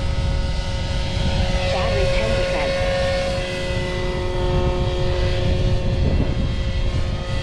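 Goblin 500 RC helicopter flying outdoors, a steady whining motor and rotor drone with harmonic tones running the whole time, moderately loud, with wind and some voice underneath.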